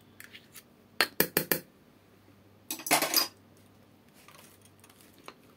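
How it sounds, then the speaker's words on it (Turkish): A metal spoon clinks against a pot while stirring margarine into a hot milk dessert, with a quick run of four sharp taps followed later by a longer scraping clatter, close and otherwise quiet. "Şöyle onu da bir karıştıralım."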